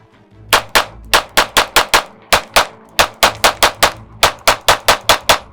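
A SIG P365 FUSE pistol fired from a 21-round magazine, a long string of loud, sharp shots at close range, some in quick pairs and triplets and some spaced apart, with no talking.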